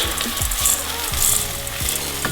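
Rice poured into a hot pan with onions for a salmon risotto-style dish, steady loud sizzling and frying with a few stirring scrapes, no voices.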